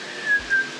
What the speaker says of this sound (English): I'll be there and try to whistle.